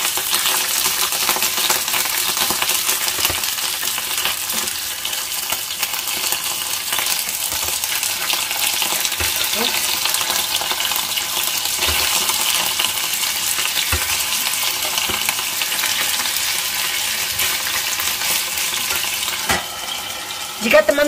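Marinated chicken pieces fry in hot oil with a dense, steady sizzle and crackle that fills the whole stretch, joined by occasional faint clinks and a brief stir near the end.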